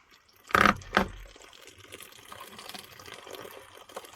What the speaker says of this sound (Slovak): to zalejeme vodou.